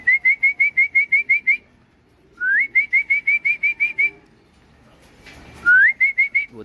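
A person whistles to call pigeons in three bursts of quick, repeated rising chirps, each run of about eight to ten short notes, clear and fairly close with pauses between.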